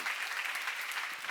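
Audience at a church seminar breaks into applause, dense continuous clapping from many people, close and fairly loud, holding steady throughout without speech.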